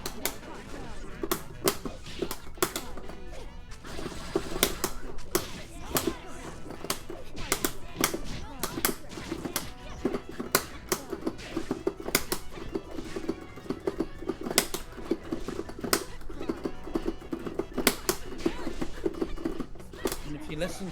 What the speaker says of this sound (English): you can hear the frantic fight stick of Penny as she focuses on her match.